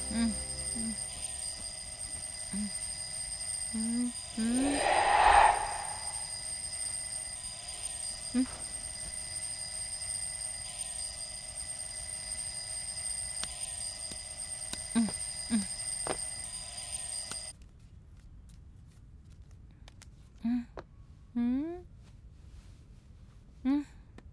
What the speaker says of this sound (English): Mitra, alarm is ringing. Put it off